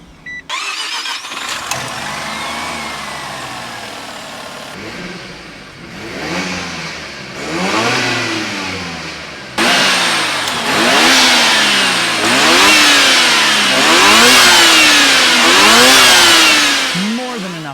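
A Mazda FD RX-7 with its small 1.3-liter rotary engine revs repeatedly, each sharp rise and fall in pitch loud and close, building in intensity over time, with a voice speaking at times.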